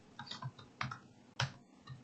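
Typing on a computer keyboard, a few separate clicks and short bursts of keystrokes close by and fairly quiet, with pauses between, in a quiet room with no talk.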